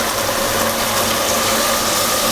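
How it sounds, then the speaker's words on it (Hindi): Water is poured into cooked masala in a pot for tinda mutton shorba, producing a steady, close, continuous splashing hiss with no talk. "अब हम इसके अंदर पानी डालेंगे"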